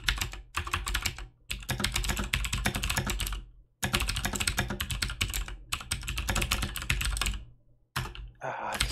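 Rapid typing on a computer keyboard, close and clear, in dense bursts of keystrokes broken by a few short pauses.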